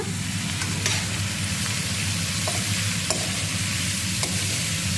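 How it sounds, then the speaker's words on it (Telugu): A ladle stirs chicken curry in a pan over a constant loud sizzle, with occasional scraping clinks against the metal and a low steady hum underneath. "కూరకి తిప్పడానికి సరిపడా గెరిట అయితే తీసుకున్నా"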